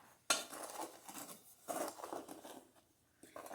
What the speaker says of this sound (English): And then I'm just going to mix up my dry ingredients first.